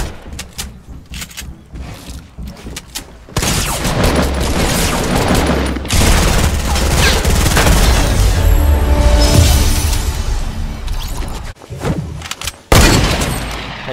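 Shooter video game gunfire: scattered sharp shots at first, then a loud sustained barrage of rapid fire and booms lasting several seconds, ending with a few more bursts.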